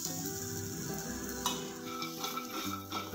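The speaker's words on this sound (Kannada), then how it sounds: "ರೋಸ್ಟ್ ಆಗಲಿ ಚೆನ್ನಾಗಿ, ಮೆಣಸಿನ್ಕಾಯಿ ಮತ್ತು ತೆಂಗಿನಕಾಯಿ ರೋಸ್ಟ್ ಆಗಲಿ" Coconut and green chillies roasting in a pan, with a steady stirring scrape and faint sizzle alongside tonal background sounds and occasional utensil ticks.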